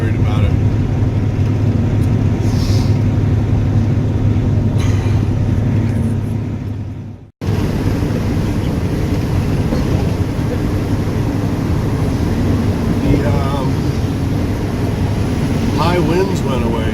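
A car travels along a northern Wyoming highway, its engine hum and road noise forming a steady drone, with a brief dropout midway before the drone resumes.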